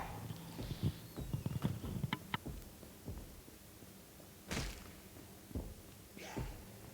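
Heavy pursuer footsteps thudding in Resident Evil 2, a cluster of rapid clomping steps followed by a few isolated heavy thumps, moderately faint and spaced apart.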